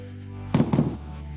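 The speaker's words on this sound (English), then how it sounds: "But yeah, 2 sonic booms." Two sharp, deep sonic booms from a landing Falcon 9 rocket booster in quick succession, loud against a steady low hum, like distant thunderclaps.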